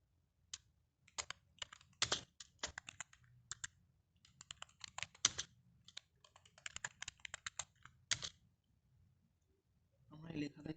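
Someone types on a computer keyboard nearby in irregular bursts of rapid key clicks separated by short pauses. A brief low voice comes in at the very end.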